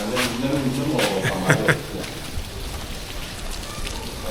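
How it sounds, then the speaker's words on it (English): Steady rain hisses outdoors at Fort William castle in Ghana, a dense wash of drops that continues throughout, with people talking faintly over it at the start. "Hey, it's raining, guys"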